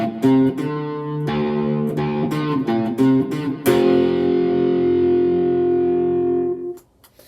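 A riff on electric guitar with heavy fuzz distortion, played as a string of choppy, palm-muted chords that ends on a long sustained chord fading out, loud and close.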